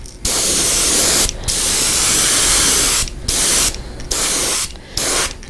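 An airbrush or spray gun coats a run of fishing jerkbait lures in a loud, close hiss that comes in several separate bursts of varying length with short silent gaps between them.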